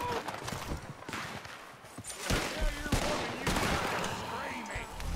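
Video game gunfire crackles in quick, repeated bursts and volleys, loud and fairly close throughout.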